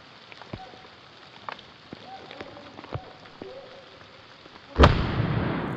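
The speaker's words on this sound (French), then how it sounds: "Revoyons ce tir au ralenti." A hunting rifle is fired at a wild boar in slow motion: faint rustling and scattered soft clicks, then a single loud, sharp report with a long fading tail near the end.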